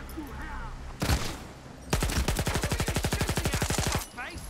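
A single loud shot, then a long rapid burst of automatic gunfire in a steady rhythm, cutting off sharply; combat sounds from the video game STALKER 2 around it.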